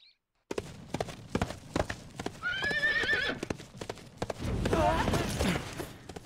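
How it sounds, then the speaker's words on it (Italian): A runaway horse in an animated scene, hooves clip-clopping in a rapid uneven rhythm, close and loud, broken by two shrill whinnies. "Un cavallo imbizzarrito!"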